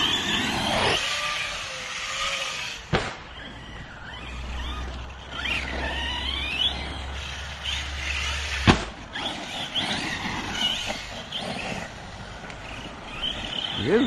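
An Arrma Kraton 6S EXB V2, a 1/8-scale RC monster truck, driving outdoors with rising and falling motor whine, sharp impacts near 3 and 8.7 seconds, and steady background noise throughout.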